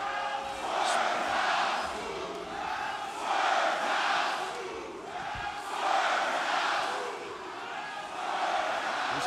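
A Baltimore pro wrestling crowd cheers for Swerve, the roar swelling and easing in repeated waves with shouts mixed in, loud and filling the arena throughout.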